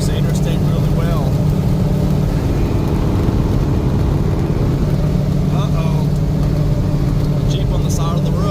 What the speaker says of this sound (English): A lot of road noise, but she handles the interstate really well.